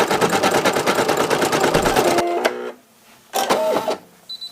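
An embroidery machine stitches out a design with a rapid, loud, rhythmic mechanical clatter for about two seconds, then stops; short bursts of whirring and clicking follow between quiet gaps.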